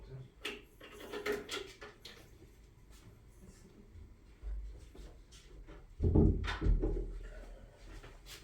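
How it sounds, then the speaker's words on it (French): Indoor door being shut during a maths lesson, a low thump standing out after several seconds of faint shuffling and handling noise, with no talk over it. "je vais juste fermer la porte"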